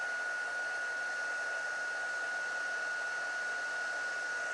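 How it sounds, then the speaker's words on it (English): A heat tool for embossing runs steadily throughout while card-making, a continuous hair-dryer-like blowing hiss with a faint steady whine, close and even, with no talking. "Grab our heat tool and emboss."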